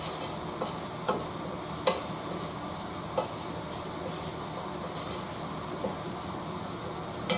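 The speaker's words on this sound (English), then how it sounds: "Give that a good stir. Stir it up. Mix that in with your roux." Precooked sausage and chicken are stirred into a gumbo roux in a pot, a steady soft sizzle and scrape with occasional louder clinks and knocks of the spoon, no talking.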